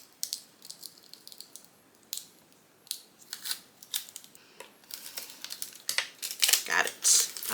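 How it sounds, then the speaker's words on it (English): Close, faint crinkling and peeling of cut craft vinyl being weeded, with scattered sharp ticks and rustles growing busier toward the end. "Got my vinyl all cut out, and we're just going to go ahead and weed it."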